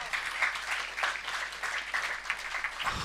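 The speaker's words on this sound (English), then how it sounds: "Give a big round of applause" Applause from the audience at a B.Tech batch inauguration program, with a short burst of dense clapping at moderate loudness and no clear talk over it.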